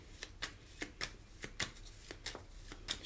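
Tarot cards being shuffled by hand during a reading, a quick series of crisp riffling flicks and slaps at an uneven rhythm, close and fairly quiet with no talking.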